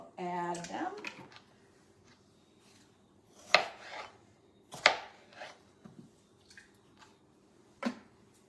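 A knife cuts vegetables into pieces for soup, a few sharp, separate chops spaced several seconds apart, faint and close, after a brief bit of speech at the start.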